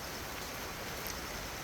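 Heavy rain pouring down around a rural hut on a dark morning, a steady, dense hiss of water with no gaps, even and moderately loud throughout, no voices.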